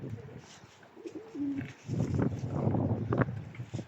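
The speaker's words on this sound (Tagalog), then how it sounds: "Ang kalapati doon sa ibabaw ng tangke." A pigeon on top of a tank coos softly in low, rolling notes amid rustling and background noise outdoors in strong wind.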